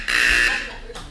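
A game show door buzzer sounds loud and close, a harsh, steady electric drone for about half a second, then a shorter second burst.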